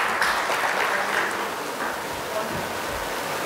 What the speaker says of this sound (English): Let's begin with a huge round of applause.